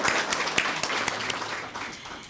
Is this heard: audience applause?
yes